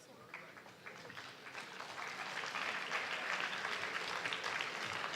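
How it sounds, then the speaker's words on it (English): Audience applause at a panel discussion, steady clapping that swells slightly and holds over several seconds, with some faint voices mixed in. "Let's have a bigger round of applause for everyone over here."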